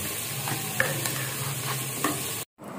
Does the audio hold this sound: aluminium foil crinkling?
no